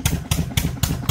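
Diesel engine driving a farm water pump that draws groundwater for irrigation, heard close up as an even, rapid chugging knock with about four strong beats per second and no voices.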